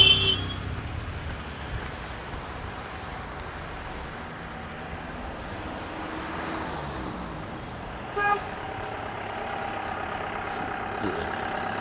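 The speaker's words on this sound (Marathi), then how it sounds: "गाड्या कशा पद्धतीने चढतायत." Cars, trucks and a Bolero climbing a steep, slippery hill road with a sharp bend at Saputara hill station; a steady engine rumble carries throughout, with a brief horn toot near the start and a short louder burst later.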